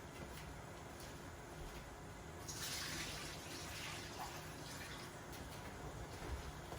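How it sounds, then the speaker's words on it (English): Water drains from a container of dyed yarn, pouring and splashing steadily, close and fairly quiet, swelling a bit louder midway before settling into a continuous gushing flow. "you just want to drain out the water"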